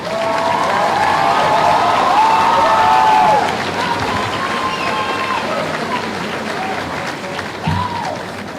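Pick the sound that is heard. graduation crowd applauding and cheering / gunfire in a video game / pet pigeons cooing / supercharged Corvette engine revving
graduation crowd applauding and cheering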